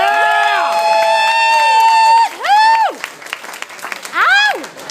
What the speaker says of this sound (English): Big round of applause for Sonny Rosete, everybody.